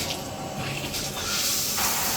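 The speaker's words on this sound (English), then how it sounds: "All right, we about to turn this water on." Water bursts from a Cobbe filtered LED handheld shower head with a soft, broad hiss that swells and grows stronger partway through, fairly quiet and close, with no talking.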